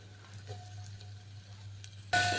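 Onion dropped into hot oil in a pan, bursting into a loud, sudden sizzle near the end after a quiet kitchen hum, the frying hiss continuing close and bright.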